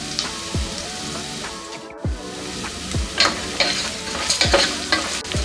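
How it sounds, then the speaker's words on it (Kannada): Onions fry in a pan for a ridge gourd stir fry, with a steady sizzle and repeated scraping strokes as they are stirred, close and moderately loud. "ಈರುಳ್ಳಿ ಚೆನ್ನಾಗಿ ಫ್ರೈ ಆಗಬೇಕು."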